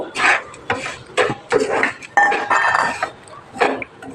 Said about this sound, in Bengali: বাদাম আর সুজিটা খুব ভালো করে মিক্সড করব